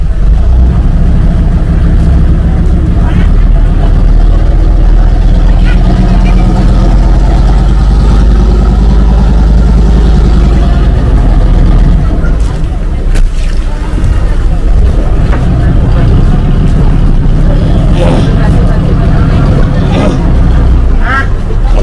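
A river passenger boat on the Mahakam at Tenggarong port gives off a loud, steady low engine rumble throughout, with faint crowd babble mixed underneath.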